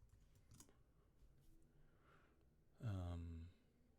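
Password typed on a computer keyboard: a few faint, scattered key taps in a quiet room, followed by a short voiced exclamation from a person.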